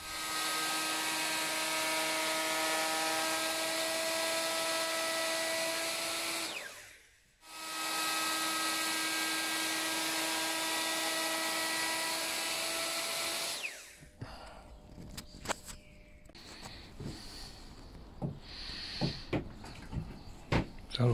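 A router with a large cutter rounds over the edge of a pine bench back, a loud steady high-pitched whine that dips briefly then resumes before cutting off, followed by quieter knocks and handling clatter.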